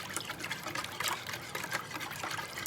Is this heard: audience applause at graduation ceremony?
no